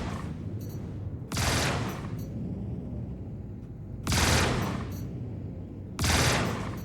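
Spaceship weapons in Star Citizen fire in loud, dense barrages, three long roaring bursts of rapid gunfire over a constant rumbling engine drone.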